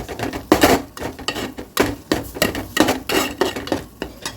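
A spatula scrapes and clinks against a pan while pepper powder is stirred into a kallumakkaya (mussel) dish, in a steady run of close, fairly loud scraping strokes with no talking.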